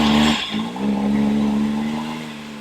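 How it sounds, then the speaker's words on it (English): On a Can-Am Maverick X3, an RPM Powersports blow off valve lets out a sharp burst of venting air as the throttle closes, then the engine settles into a steady hum, close and fairly loud. "All right, here's that classic blow off sound."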